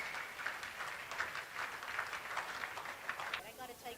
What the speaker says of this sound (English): One more round of applause for this amazing triple center cultural item.